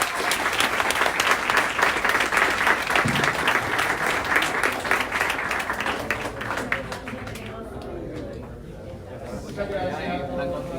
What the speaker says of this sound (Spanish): Así que un aplauso para el profesor